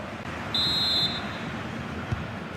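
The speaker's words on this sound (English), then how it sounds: "The whistle sounds, and the second half gets going." A referee's whistle at a football match gives one steady half-second blast starting the second half, heard over a continuous crowd roar in a large stadium.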